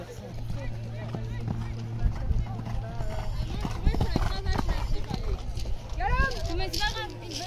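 Horse hooves clip-clop steadily and close by during a riding session, with occasional snorts and a brief whinny, while people talk over the rhythmic footfalls.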